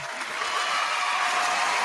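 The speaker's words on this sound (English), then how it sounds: "Round of applause for Baang" Steady applause from an audience greeting the guest Baang on a mixshow, a dense, even wash of clapping that holds at the same level throughout.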